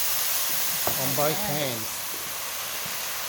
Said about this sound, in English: I'm just going to go in a bit closer so everybody can hear The the sizzle.